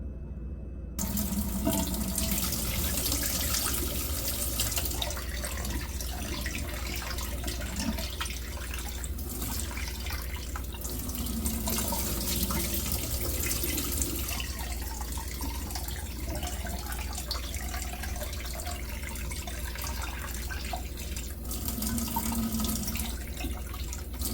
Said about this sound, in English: I put my rice in my water. Let that sit for a few minutes, and then I start rinsing.